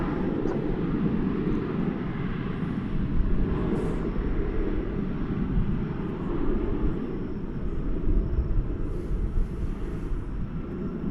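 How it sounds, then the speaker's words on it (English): A Boeing 737-800 airliner takes off from DFW Airport with a steady, broad jet-engine roar that holds loud and close throughout, a deep rumbling wash with no pause. "1884 is lifting off, or getting ready to lift off for Santa Ana, California. It's a 737-800, which should go through this shot."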